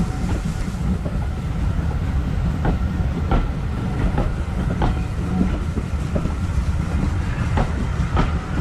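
A train rolls into a railway station with a steady, loud rumble and repeated rhythmic clicks of wheels over rail joints, heard close from on board.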